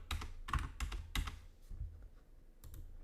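Keys clack on a computer keyboard in a quick, uneven burst of typing, close and fairly quiet, a few strokes then a short pause and more taps.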